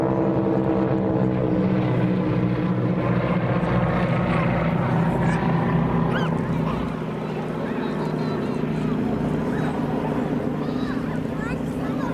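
A propeller aircraft's engine drones steadily through a wing-walking air display at Longleat, a continuous moderately loud hum with harmonic overtones that dips slightly partway through, under a commentator's voice over the loudspeakers.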